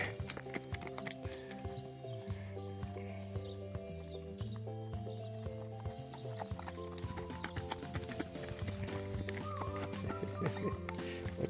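Miniature horse foal prancing around, with quick irregular hoof clip-clops mixed with tonal background music throughout, fairly close and steady.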